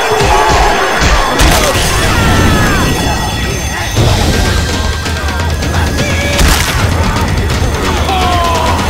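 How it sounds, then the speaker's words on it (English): A pipe bomb in a video game goes off with heavy, booming crashes amid chaotic combat noise. Loud bursts rise above a dense, noisy backdrop. "Throwing a pipe bomb."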